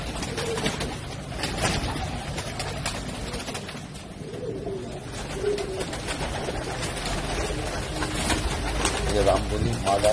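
Teddy pigeons coo softly in a loft over steady background murmur and someone talking, the low rolling calls repeating through a dense, busy mix.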